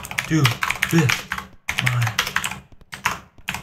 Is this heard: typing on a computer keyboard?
yes